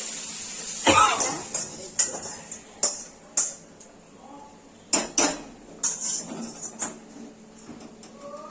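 A frying pan is lifted off a stove after frying soybean chunks, pointed gourd and potato, giving a string of sharp metallic clanks and knocks against the burner and utensils, close and fairly loud with quiet gaps between them.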